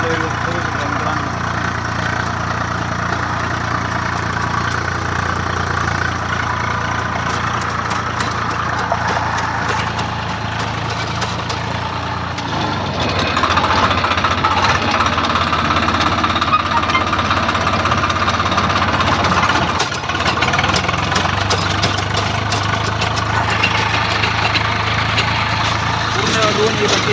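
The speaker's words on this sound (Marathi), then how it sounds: "ट्रॅक्टरचा आवाज एकदम बदलला आहे आणि ट्रॅक्टर लोडवर जातो आहे" A Sonalika tractor engine drives a rotavator under load, a loud, steady, close-up rumble with a harsh mechanical clatter that briefly shifts in tone midway and dips for a moment near the end.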